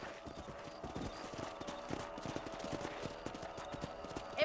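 Horses gallop through the Red Dead Redemption video game, a quick run of hoof clip-clops with a brief whinny near the end, while someone speaks faintly underneath.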